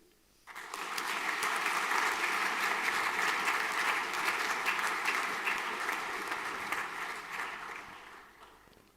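A school audience at a final prize-giving assembly applauds an award recipient, a dense, sustained roar of clapping that swells in quickly, holds steady for several seconds, then gradually tapers off.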